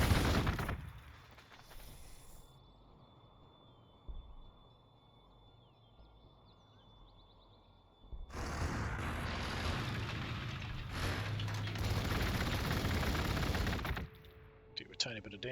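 Units shooting in the turn-based strategy game Warhammer 40,000: Gladius: a sharp opening crack, then a quiet stretch, then a long sustained volley of gunfire with rumbling impacts that fades near the end.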